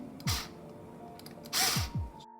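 Guitar string winding onto a Fender vintage-style tuner, with two or three short close whirring turns, each with a rising then falling pitch, in a quiet room.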